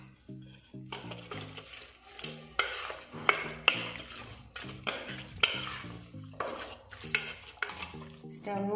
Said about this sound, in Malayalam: 1/2 കപ്പ് വെള്ളം ഒഴിച്ചിട്ട് നന്നായി മിക്സ് ചെയ്ത് കൊടുക്കാം.